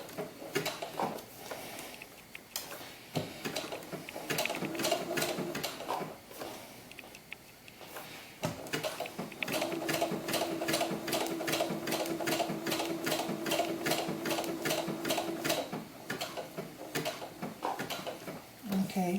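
An electric sewing machine stitches a small doll glove in close-up, running in quick, even bursts of rapid ticking stitches, with a longer steady run in the second half and faint room sounds between.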